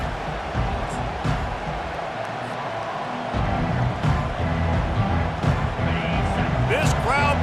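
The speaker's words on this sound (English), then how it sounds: "This crowd bringing the energy and noise early" Steady crowd roar from a college football stadium in EA Sports College Football 25, a constant broad wash of fan noise running beneath play-by-play commentary.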